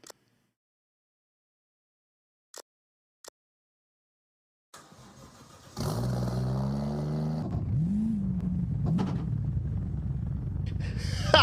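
A car engine revs hard like a race car, starting after a quiet stretch with a few ticks, then a loud sustained roar with rising and falling pitch that fills the rest of the clip, close by.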